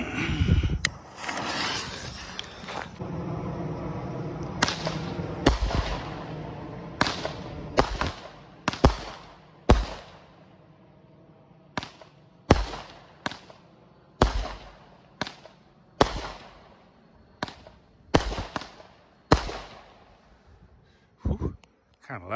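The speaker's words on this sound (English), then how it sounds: "That was like the Roman candle a little bit." Pint-Sized Powerhouse multi-shot consumer fireworks cake, roughly nine shots, firing a series of sharp pops one after another like a Roman candle, outdoors, fairly loud with gaps between bursts.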